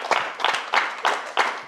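Audience at an Indonesian comedy roast show clapping in short, rhythmic bursts, about five hand-clap volleys spaced evenly apart, close and clear with no talking over them.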